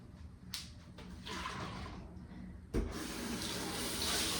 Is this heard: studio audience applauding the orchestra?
no